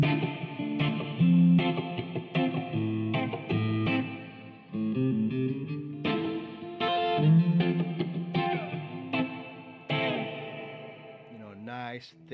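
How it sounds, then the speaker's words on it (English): An electric guitar plays a rhythmic reggae riff drenched in thick dub reverb and echoing delay, with choppy chords ringing out and trailing off. "nice thick reggae dub reverb on there"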